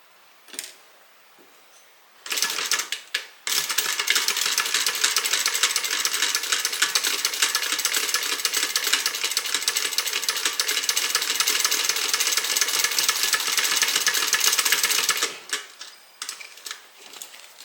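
Sewing machine running a long continuous seam on a leather bag, a fast close mechanical chatter lasting over ten seconds, with brief starts and stops at either end.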